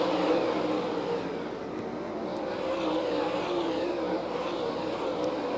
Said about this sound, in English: Madden drifted up the bank, and Davenport went right by him